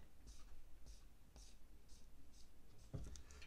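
Brush writing on paper: soft, regular swishing strokes repeat about once every half second, very quiet and close, with a faint breathy background and one slightly louder scrape near the end.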